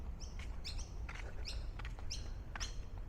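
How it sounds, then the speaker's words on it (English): Small birds chirp outdoors in a leafy Australian community where ducks also live, with repeated high, quick tweets spaced through the clip over a steady low rumble of background noise. "Got birds and ducks"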